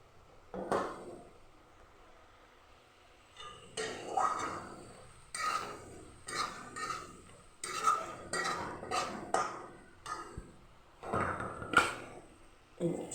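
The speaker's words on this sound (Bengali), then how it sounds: "এখন চিকেন লিভারটা দিয়ে দিব।" Chicken liver tipped into a pan of cooked-down spices, followed by repeated scraping and clinking of a spoon against the pan in short bursts, fairly quiet and close.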